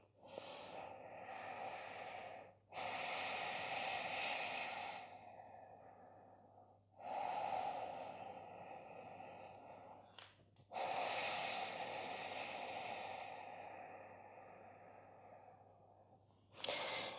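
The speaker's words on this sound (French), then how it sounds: "Inspirez, expire par le nez et sifflement au niveau de la gorge." Ujjayi yoga breathing, in and out through the nose with a soft whistle at the back of the throat: three long, close, hissing breaths with brief pauses between them, steady and unhurried, no talking.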